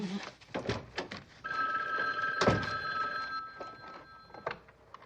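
A telephone bell rings in a home in a 1970s police procedural, a sustained ringing tone running through most of the clip with a clunk or two of household handling noise around it.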